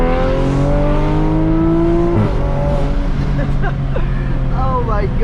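A 2020 Toyota Supra MK5 pulls hard through second gear in sport mode with traction control on. The loud engine rises steadily from inside the cabin, with a brief shift-like break partway through, and occasional voices mixed in.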